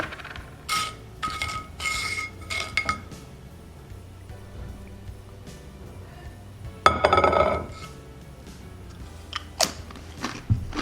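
Someone bites and chews tortilla chips topped with hot sauce, close to the microphone: crisp crunches at the start, a loud crunching bite midway and a few more near the end, with quiet chewing in between.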